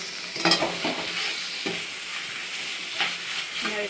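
Dudhi halwa made from bottle gourd being stirred in a pan with ghee, a gentle sizzle under repeated scraping strokes of a spoon against the pan, close and with no voices.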